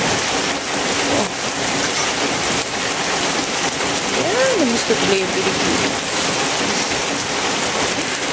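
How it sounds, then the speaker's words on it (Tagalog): Rain pours on a rainy morning in Lebanon, a loud, dense, continuous hiss of drops on surfaces nearby, while someone talks briefly over it partway through. "First time na rin na-experience na itong ulan dito sa Lebanon."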